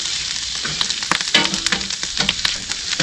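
Oil sizzles on a Hunsaker griddle while garlic shrimp cook, a close crackling fry with scattered sharp pops and light scraping, steady throughout with no talk.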